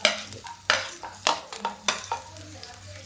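Garlic hitting hot oil seasoned with cumin and asafoetida, sizzling steadily in a pan while a spoon scrapes and stirs in repeated close strokes; a voice speaks briefly over the cooking.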